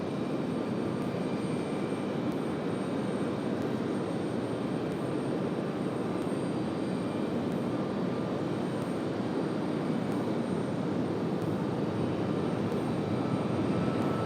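A plane taking off at Raleigh-Durham airport gives a steady, loud broadband engine roar that holds evenly for the whole stretch, with a faint high whine running above it and no voices.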